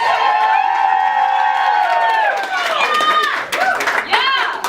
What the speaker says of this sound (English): It says pause for wild applause on my script.